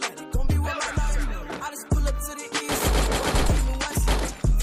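Gunfire in the Free Fire battle royale game: several bursts of close, loud automatic shots in quick succession, separated by brief pauses, with no talk over them.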